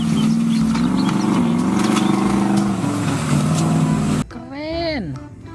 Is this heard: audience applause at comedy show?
no